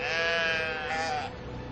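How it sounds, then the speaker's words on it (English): A sheep in the video game Brothers: A Tale of Two Sons, picked up by a character, lets out one long, loud, wavering bleat that fades near the end. "If you pick up one sheep"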